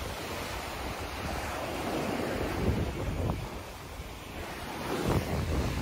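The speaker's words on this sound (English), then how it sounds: "The ocean looks beautiful." Ocean waves wash onto a beach in Thailand, a steady broad roar of surf with gentle swells, heavy wind buffeting the microphone and no talking.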